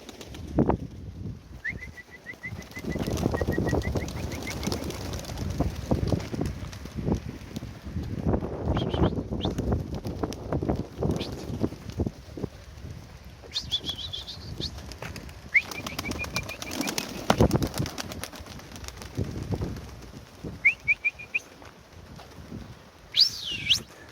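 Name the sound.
pigeons cooing and flapping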